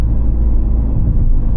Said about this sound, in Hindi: वो साउंड आपको इंजन की आती रहती है, बट गाड़ी आपकी आराम से निकल जाती है CNG में भी।